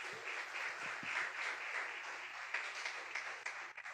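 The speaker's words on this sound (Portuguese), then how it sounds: "Dá uma salva de palmas para a vida deles." Church congregation applauding after being asked to clap, a steady soft wash of many hands at moderate distance, with a few low thumps underneath.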